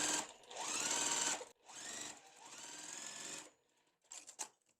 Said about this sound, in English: I'm going to sew the bottom piece on going this direction as well, going from the right to the left.